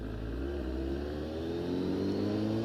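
Motorcycle engine holding a steady mid-pitched drone that rises slightly in pitch as it revs, continuous and close with no speech.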